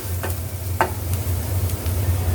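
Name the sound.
soya chap being roasted in a pan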